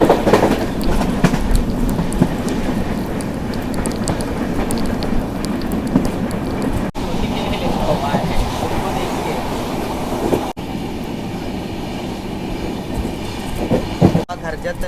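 The Udyan Express runs on tracks between Mumbai and Pune during monsoon, heard from inside as a loud steady rumble with clickety-clack of the wheels, while voices carry on indistinctly beneath.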